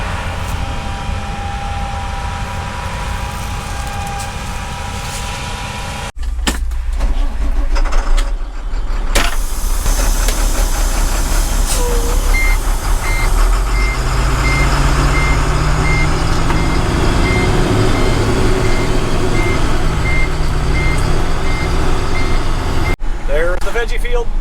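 A farm truck drives off during harvest with a steady engine rumble, then reverses toward a grain bin with repeated reversing beeps over the motor noise.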